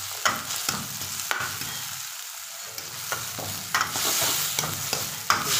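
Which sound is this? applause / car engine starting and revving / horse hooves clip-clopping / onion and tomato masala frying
onion and tomato masala frying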